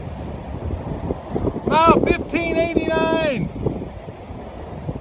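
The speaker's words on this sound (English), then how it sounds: "It's windy" Steady wind roars across the microphone throughout on a hiking trail near Cheshire, Massachusetts, with a person speaking briefly in the middle.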